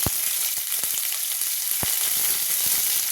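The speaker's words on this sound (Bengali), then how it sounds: "পেঁয়াজটা ভাজা হয়ে গেছে" Onions fry in hot oil with bay leaf, whole garam masala and cumin for potato biryani, a steady close sizzle broken by scattered sharp crackles and spoon taps.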